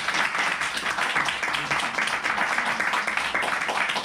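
The audience at an evening talk on the ceasefire movement gives a final round of applause for the speakers. The clapping sounds fairly soft and distant and runs evenly for about four seconds, with a little talk mixed in.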